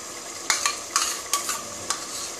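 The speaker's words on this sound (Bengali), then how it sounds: "একটু টক দই দিয়ে দিলাম" Sour yogurt stirred into chicken tehari in a hot pot: a bed of frying sizzle broken by several distinct scraping spoon strokes at irregular intervals, close and fairly loud.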